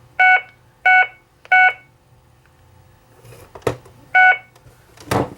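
An Alarmforce Alarmcare alarm unit dials out over a landline phone, giving three evenly spaced loud touch-tone beeps, then a pause with clicks, then another tone and a burst of line noise.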